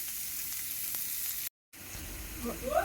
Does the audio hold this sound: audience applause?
no